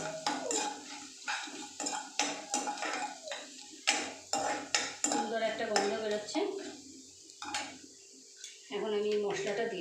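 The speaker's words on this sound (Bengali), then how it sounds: "আমি এর মধ্যে মশলা গুলে রেখেছি এটা দিয়ে দেবো" Spice paste for a vegetarian chickpea dal going into a pan and being stirred, with repeated metal clinks and scrapes of a spoon against the pot under intermittent talking.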